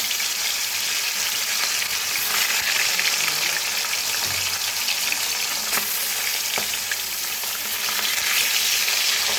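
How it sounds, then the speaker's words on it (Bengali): Hilsa fish pieces fry in hot oil in a pan, producing a dense, continuous crackling sizzle, loud and close, with a few faint taps of a utensil. "তারপরে ভেজে নেব"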